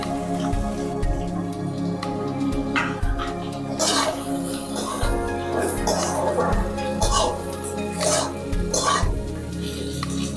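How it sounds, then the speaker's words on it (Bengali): Capsicum goes into rice frying in a pan, bringing a steady, soft sizzle with scattered scraping and stirring bursts, close by and moderately loud over a faint background hum. "এইবার দিয়ে দিচ্ছি ক্যাপসিকাম।"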